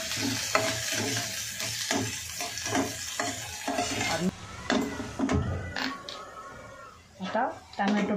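Onions sautéed in a pan for spicy masala pav, a close sizzle with repeated stirring scrapes and clinks throughout, while someone talks over the cooking.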